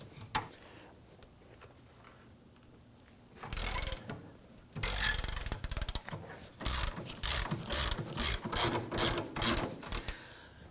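A ratchet wrench breaks loose and turns a rear lower forward control arm bolt on a 2008-2011 Ford Focus, close and loud, with bursts of rapid clicking that settle into a repeating ratcheting rhythm.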